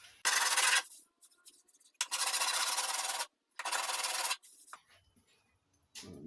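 A file rasping on a fabricated Avro Speedster windshield shell part, three long loud strokes separated by brief pauses, close and harsh, followed by a faint clink.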